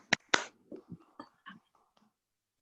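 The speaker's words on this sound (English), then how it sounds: "you see, we're just applauding spontaneously" A few scattered claps from people on a video call, sharp and close, thinning into softer separate claps and trailing off.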